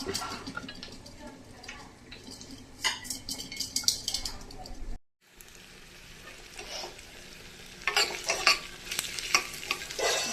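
Oil sizzles and crackles steadily with mustard seeds, urad dal, onions and green chilies frying, broken by clinks and scraping of a utensil against the pan, with a brief pause midway.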